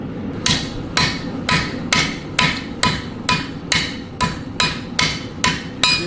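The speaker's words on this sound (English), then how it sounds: "the hammer goes like that a little bit" A hammer strikes metal at a forge while a sword blade is shaped: about a dozen sharp, ringing blows in a steady rhythm, roughly two per second, close and loud with no talking.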